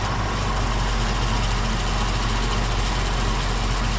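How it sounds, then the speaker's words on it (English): A 1966 Ford Mustang convertible engine idling, a steady, even low rumble held close and loud throughout with no revving or talk. "the motor sounds real nice"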